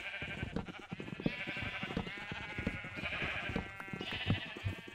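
Sheep in the Minecraft video game bleat repeatedly, several overlapping nasal baas close by, mixed with footsteps and game noises and no talking.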